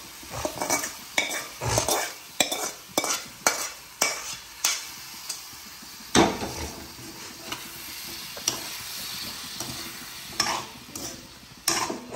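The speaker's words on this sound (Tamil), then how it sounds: "இப்போ நாங்கள் அவிச்ச கனவாயை இதோட சேர்ப்போம்" Boiled squid is stirred into a spiced masala in a pot, with a run of sharp, uneven spoon knocks and scrapes over a constant frying sizzle, close and fairly loud.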